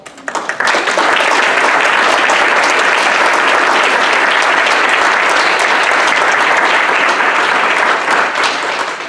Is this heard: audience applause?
yes